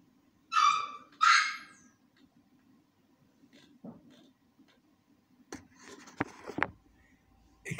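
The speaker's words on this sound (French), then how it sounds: "j'ai dû arrêter un peu à cause du chien qui était en train d'aboyer" A dog barks in a few sharp, separate bursts indoors, near and fairly loud, with quiet gaps between them and no talking.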